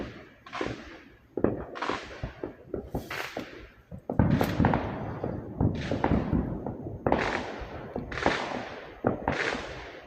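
Fireworks and firecrackers go off outdoors on July 4th in a series of sharp bangs and cracks, about nine distinct bursts spaced unevenly, each with a short rumbling tail.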